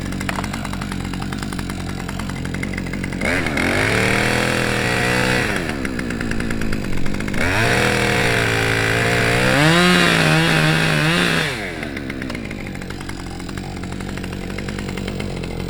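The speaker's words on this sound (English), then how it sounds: "You can set the saw like this against your bottom, give it a little gas, and rotate the saw into it right there until you cut that hinge out." A chainsaw, one of several Stihl or Husqvarna saws, bores into a tree to cut out the hinge, its engine revving up and down in surges as the bar rotates into the wood, close and loud with no talk.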